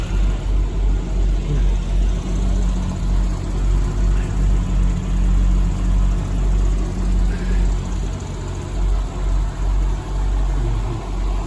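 A black 1995 Chevrolet Corvette C4 ZR1 with the LT5 engine idles nearby, a steady low rumble with a gently pulsing rhythm and no voices.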